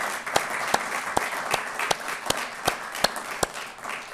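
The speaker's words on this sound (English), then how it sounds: "So you all deserve a big round of applause for that." An audience at a presidential awards ceremony applauds in a steady patter of many hands, with a few sharp, close claps standing out at a regular beat over the general clapping.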